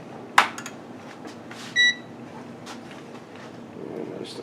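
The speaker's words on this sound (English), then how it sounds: "let me get this fired up and get that component tester fired up" A component tester, set up to compare an old and a new capacitor from a Convoy 13.8 VDC power supply, switches on with a soft click and then gives one short, clear electronic beep over faint room hiss.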